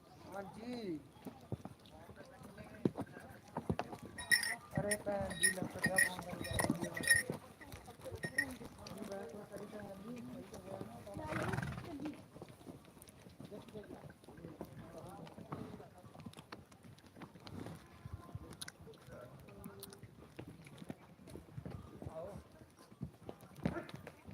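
Horses on a ride in Shimla clip-clop along at a walk, hooves knocking in a steady close rhythm with gusts of wind against the microphone and people talking throughout.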